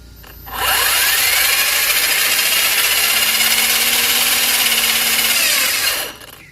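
A small Hobao RC nitro engine running on a test bench at one-third throttle, rising to a loud, steady high-pitched buzz for about five seconds before cutting out, close to the listener.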